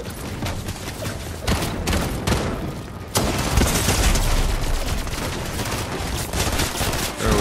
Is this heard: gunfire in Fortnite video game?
yes